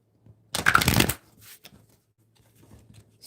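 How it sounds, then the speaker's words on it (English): Tarot cards are shuffled in one quick, crisp riffling burst lasting about half a second, followed by faint handling sounds in a quiet room. "Let's shuffle these up."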